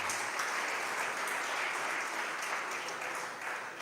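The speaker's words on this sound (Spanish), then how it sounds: "Denle un aplauso de nuevo al Señor" Steady, dense applause from a church congregation fills the whole stretch at an even level, a continuous wash of many hands clapping with no pause.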